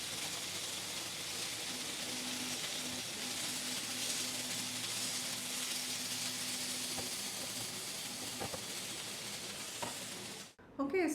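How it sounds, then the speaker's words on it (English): Garlic frying in a cast iron pan gives a steady, close broadband sizzle that holds evenly throughout, with a few soft stirring knocks and a sharp clatter near the end as the cloves are flipped. "I'm just going to try to flip the garlic as well."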